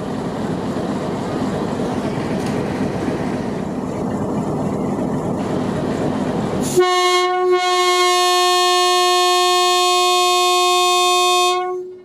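A loud, sustained train departure horn blares for several seconds at Chiniot Railway Station, Pakistan, after a stretch of rumbling noise, holding a steady harmonic tone before cutting off.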